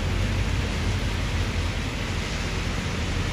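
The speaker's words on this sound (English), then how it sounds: "And it's going to continue to rain, probably pretty good for the next 24 hours." Heavy rain pours steadily with a broad, constant rushing wash that could include fast-flowing stormwater, loud and close with no voices, during a winter storm in Salinas, California.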